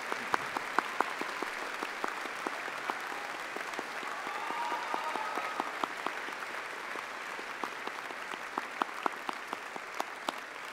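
Steady sustained applause from a graduation ceremony audience, with a dense patter of many hands clapping and a few sharper individual claps standing out, filling a large hall without a break.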